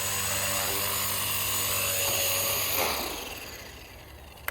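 A Blade 230s Smart v2 RC helicopter flying and drifting, its high steady whine and rotor hum loud, then easing and fading toward the end, ending with a brief sharp knock.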